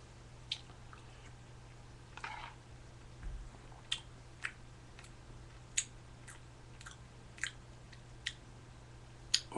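Someone eating a bowl of oatmeal up close, with soft wet squishes and spoon clicks at irregular intervals over a faint steady hum, and nobody speaking.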